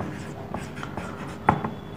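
A pen writing on paper, soft scratchy strokes in short bursts with one sharper tap midway, quiet and close with no talk over it.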